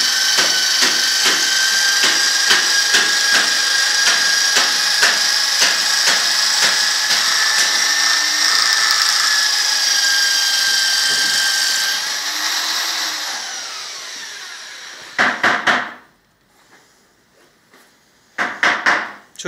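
A power drill spins an arrow shaft against very fine sandpaper, whirring steadily with a high, buzzing sand-like friction, then winds down and stops, followed by short bursts of spinning.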